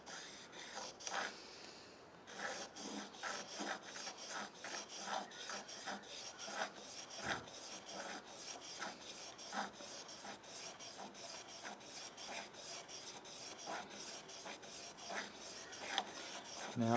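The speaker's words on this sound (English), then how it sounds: "and just hone it." Lathe tool being honed by hand on an oilstone, a faint, steady rhythmic rasping with repeated short back-and-forth strokes continuing for the whole stretch, close by, with no talking.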